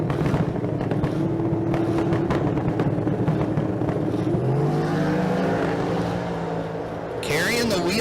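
An '07 Shelby spins its wheels in the left lane at a Las Vegas street car drag race, a loud engine roar with rising pitch sweeps and tire screech, then a fresh shrill squeal near the end.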